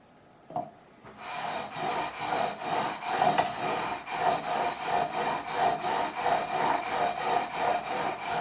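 Guitar frets on a PRS Mark Holcomb SE are leveled with 400-grit paper on a radius beam, giving a close, steady rasping scrape in regular back-and-forth strokes after a single knock at the start.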